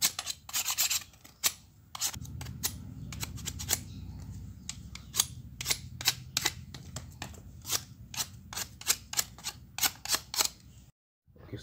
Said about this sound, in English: I'm going to peel out this outer layer here.